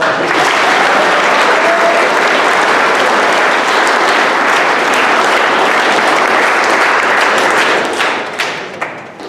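Sustained loud applause from a crowd at an undergraduate awards ceremony, dense and steady for several seconds before thinning into scattered final claps.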